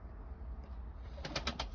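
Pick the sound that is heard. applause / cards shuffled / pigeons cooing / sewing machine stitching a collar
pigeons cooing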